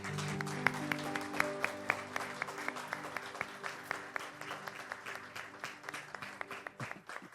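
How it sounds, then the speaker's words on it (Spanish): A church congregation at an anniversary service applauds in a steady, continuous patter of many hands while a sustained musical tone holds low underneath, the clapping fairly quiet and even throughout. "¿Quiere darle un aplauso al Señor?"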